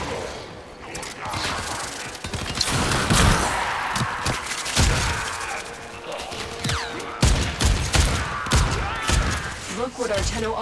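Sci-fi gunfire from Warframe solo survival: irregular bursts of shots and heavy thumps, some loud and close, mixed with game effects and occasional talk.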